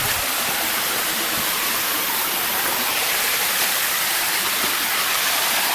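The Chanathian waterfall in Bang Phra, Si Racha district, Chonburi, roars as a loud, steady rush of falling water that fills the whole stretch without any break or talking.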